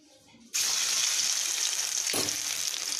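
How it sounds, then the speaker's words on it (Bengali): Garlic drops into hot oil for a tempering before water spinach is fried. After a quiet moment, a loud, close sizzle bursts out suddenly and keeps crackling steadily, with a brief clatter partway through. "এবার একটু রসুন ফোড়ন দেব"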